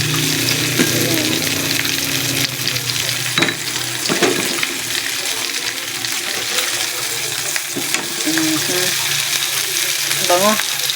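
Pork barbecue pieces frying in a pan give a steady, close sizzle with occasional sharper crackles and spits throughout, with faint background noise and no clear talking.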